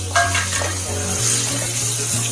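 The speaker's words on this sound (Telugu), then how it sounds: "మనం కట్ చేసి పెట్టుకున్న కాకరకాయ ముక్కలన్నీ ఇవి వేసేసి కలిపేసుకుందాం అండి" Bitter gourd pieces stirred into sizzling masala in a frying pan, a steady close fry with soft scraping of the spoon against the pan throughout.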